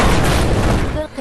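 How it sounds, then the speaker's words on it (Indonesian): A film explosion as a grenade blows up a train carriage, a loud sustained boom with dense crackling debris filling the whole moment before tailing off slightly at the end. "Tanpa sengaja Patan menarik pin granat dan akhirnya gerbong di sana meledak."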